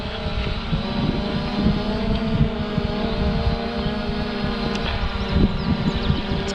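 A ZLRC Beast SG906 Max drone flies against the wind outdoors, its propellers giving a steady, loud droning whine with a slightly wavering pitch that holds throughout.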